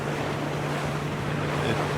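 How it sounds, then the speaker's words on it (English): Water rushes hard off the stern of a fast Volvo Ocean Race yacht at a leg start off Sanya, a loud, continuous wash of surf mixed with wind noise. "I'm transfixed by the pace of that water coming off the stern there."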